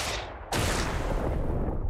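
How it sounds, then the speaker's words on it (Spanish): A tank cannon fires in the video game Xenonauts, X-Division mod: after a brief lull, one sudden, heavy blast hits loud and close, then rolls on as a dense, sustained roar to the end. "Me ha aguantado un tiro del tanque."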